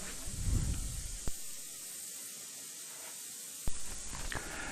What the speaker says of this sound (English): Here the frame is given its first coat of black.